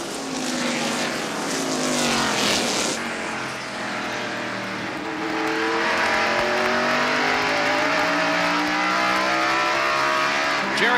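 NASCAR stock cars roar around Martinsville Speedway in the 1993 Goody's 500, engines rising and falling in pitch as the pack sweeps past, a loud sustained race drone heard from trackside.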